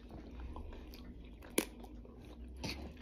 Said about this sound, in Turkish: Bunlar küçük turup ama çok taze ve şeyler. Kıtır kıtır.